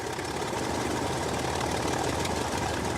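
A Hispano-Suiza 220 hp aero engine from the First World War runs steadily and close, a dense continuous roar with a rough, throbbing low end and no pauses, heard alone.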